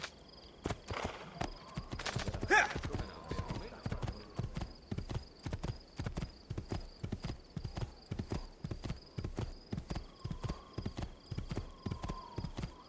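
A horse in Assassin's Creed 2 clip-clops along at a steady walking-to-trotting rhythm, crisp repeated hoof strikes with a brief whinny early on, while a person talks over the game sound.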